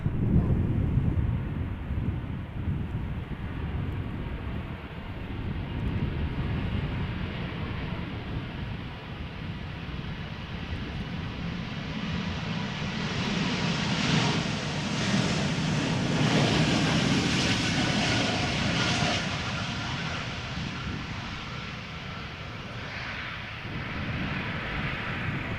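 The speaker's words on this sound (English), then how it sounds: "E2 Embraer 195" An Embraer E195-E2 jet airliner passes at Amsterdam Schiphol, its engine roar swelling gradually to a broad peak mid-pass and then fading with distance under wind buffeting.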